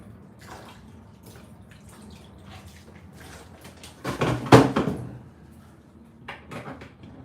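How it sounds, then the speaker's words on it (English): Vegetables rinsed under running tap water in a kitchen, a faint background at first, then a louder gush of flowing, splashing water for about a second before it eases off, with small knocks around it. "And then basically you just kind of rinse them."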